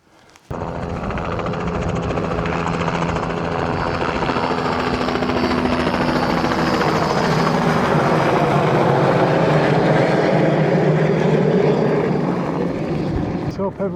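A mountain rescue helicopter passes over Lake District hills, its rotor throbbing loudly and steadily for over ten seconds as it swells and shifts overhead, with a voice briefly audible beneath it.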